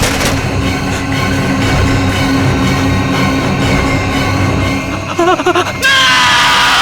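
A man screams in fear outside a door in a Hindi crime TV drama, a loud, sustained strained yell under dense background noise, with wavering cries near the end.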